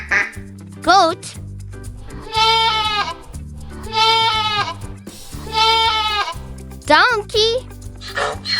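Three long, wavering goat bleats, each a drawn-out call, sound loud and near over a light children's song accompaniment, with short sung bits at the start and finish.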